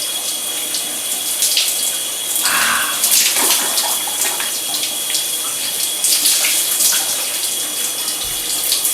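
Water pours steadily from a shower tap, a loud continuous hissing gush with some splashing and shifting flow as it strikes and drains.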